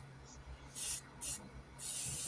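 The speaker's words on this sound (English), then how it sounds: "he's got a new airbrush. It's an Avanti for the price point." An Avanti airbrush sprays paint onto a Star Trek Lt. Uhura figure in three short hissing bursts, each under a second, with brief pauses between and the last burst held longer, close to the microphone.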